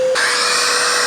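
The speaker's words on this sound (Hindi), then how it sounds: "इसको चेक करने के लिए मैंने पानी भर लिया, इसमें वैक्यूम क्लीनर लिया है मैंने, ब्लोअर मोड में एक्टिवेट किया है" A vacuum cleaner switched to blower mode, used to test a Scorpio pickup for a leak, kicks on after a short high whine and roars loud and steady at close range.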